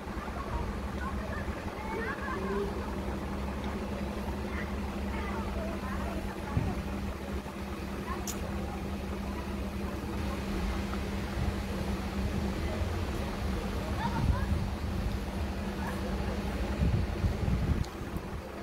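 Strong storm wind blowing steadily and loudly across an outdoor street lined with trees, roaring and buffeting the microphone throughout with no letup.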